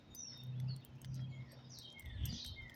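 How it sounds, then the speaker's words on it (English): Birds chirping outdoors in nature, with scattered short high chirps and trills over a low rumbling background, soft and somewhat distant, no talking. "This is a good spot for the hearing the birds."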